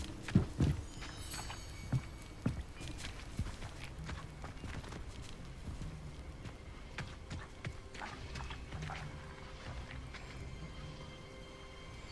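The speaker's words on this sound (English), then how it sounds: "The carts are returning to Arn." Horse-drawn carts in Hogwarts Legacy clatter along with soft, uneven hoof clops and wheel rumbles, faint and moderately distant, sparse thuds scattered over a quiet ambient bed.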